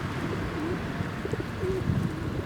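Pigeons or doves coo in soft, low repeated calls against a steady outdoor background hum, with no talking.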